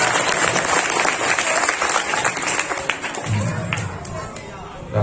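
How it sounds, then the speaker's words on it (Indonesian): Audience applause inside a mosque during a Maulid Nabi celebration sermon, a dense burst of clapping that fades toward the end, with a voice speaking over it. "Kasih tepuk tangan yang meriah."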